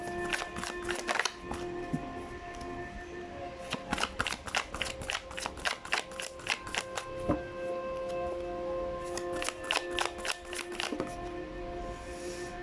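Tarot cards are shuffled in repeated riffling bursts of crisp rapid flicks, broken by short pauses as a card is drawn; the sound is close and steady.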